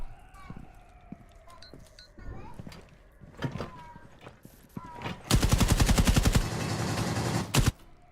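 Video game gunfire erupts as a rapid, loud automatic burst lasting a few seconds, following scattered in-game sounds and voices during a livestream.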